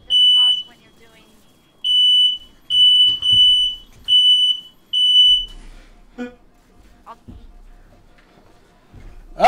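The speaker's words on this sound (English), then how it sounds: "You have a fire alarm." Smoke detector fire alarm sounding indoors in a series of loud, shrill beeps with short gaps, close by, then stopping as people talk over the remaining quieter stretch.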